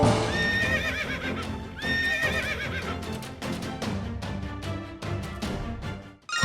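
A horse in a zombie survival video game whinnies repeatedly over steady galloping clip-clop hoofbeats, loud and close, with a game music bed running underneath throughout.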